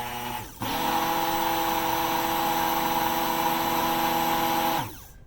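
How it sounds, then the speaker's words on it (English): A stick blender whirs through thick homemade leave-in conditioner, a loud steady motor drone that starts abruptly, holds level for about four seconds, then winds down and stops. "make sure that I have it stick blended a little bit longer"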